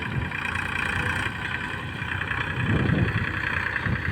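A tractor engine runs steadily nearby at a continuous low rumble, swelling briefly louder toward the end, with no voices over it.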